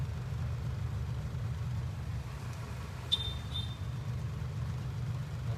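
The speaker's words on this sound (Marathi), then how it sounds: "खूप ट्रॅफिक आहे" Road traffic in a jam near a Reliance company site on the way west in the morning: a low, steady engine rumble of idling vehicles under open air, with a brief high squeal, likely a brake, partway through.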